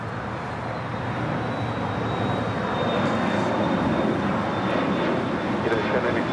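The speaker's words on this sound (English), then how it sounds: "United Airlines Flight 1093, coming in from Denver, Colorado, 757-300" United Airlines Boeing 757-300 arriving at LAX from Denver, its jet engines producing a loud, steady roar that swells slightly as it nears, with a voice talking over it.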